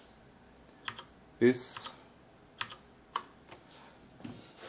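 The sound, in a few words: Cherry MX Board 6.0 keyboard keys being pressed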